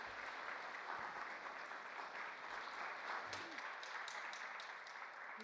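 A congregation in a church applauds with steady, dense clapping that carries on through the whole stretch at an even level, heard without any talk over it.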